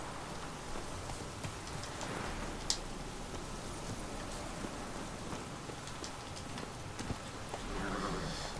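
Roach the horse in The Witcher 3 video game, with hooves clip-clopping at a steady walking rhythm over a constant patter of rain, faint and in the background.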